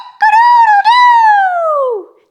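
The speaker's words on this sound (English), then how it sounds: "A rooster, you're right." A single loud, close rooster crow, a clear two-part call that rises, holds and then slides down to fade out, with no other sounds around it.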